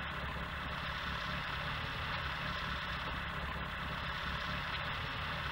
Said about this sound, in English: Bulldozer.